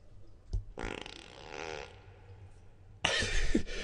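Cartoonish fart sound effects from a toilet simulator video game: a short blast, then a longer wobbling one, a pause, and another loud burst, with no talking.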